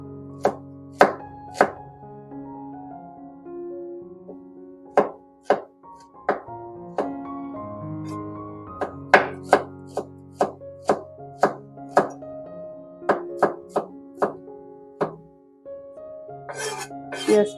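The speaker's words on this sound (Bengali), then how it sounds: "এখন আমি পেঁয়াজ আর টমেটো কেটে নেব।" Knife chopping onion and tomato on a board for an eggplant and chapila fish curry, sharp irregular chops close and clear, with quiet gaps and a brief clatter near the end.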